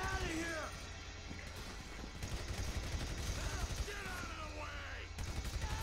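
Gunfire in the video game GTA 5, a dense spatter of rapid shots and impacts running through the whole stretch at steady loudness, mixed with game effects and someone talking over it.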